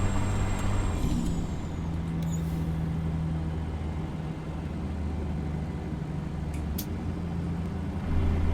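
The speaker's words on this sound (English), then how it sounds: "So we've got the engine fan on right now." A truck's engine fan hums steadily over the idling diesel in American Truck Simulator, a constant low drone with a short hiss early on and faint clicks later.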